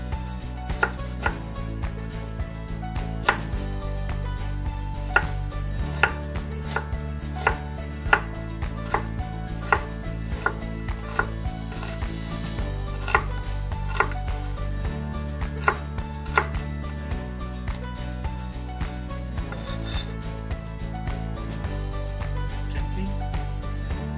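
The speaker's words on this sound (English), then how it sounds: "take 100 grams of onion and cut it into rough wedges." A knife chops 100 grams of onion into rough wedges on a cutting board for Japanese katsudon sauce, giving steady, evenly spaced thunks close up over a constant low background hum, with no talking.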